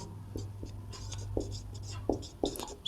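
Marker or chalk writing on a classroom board during a class 12 maths lesson, uneven scratchy strokes and taps at moderate distance over a steady low hum, with no clear talking.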